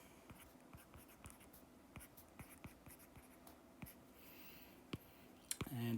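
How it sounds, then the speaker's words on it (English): A pen writing a condensed structural formula by hand, with quiet, close scratching strokes and regular taps at a steady rhythm for several seconds, no talking. "I'm just going to draw the condensed structural form."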